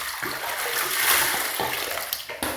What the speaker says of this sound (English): I just poured the water over my head.